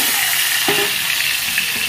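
A small tomato dropped into hot oil for tempering chana dal crackles with a steady frying sizzle, a brief louder burst near the start, continuous and close with no talking.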